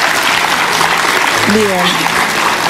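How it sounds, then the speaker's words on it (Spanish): A studio audience claps on a Spanish-language talk show, a dense wash of applause under a short spoken word from a host. "Un aplauso a los investigadores."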